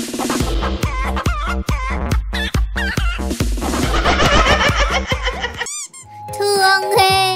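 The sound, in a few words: chicken clucking while chased by boy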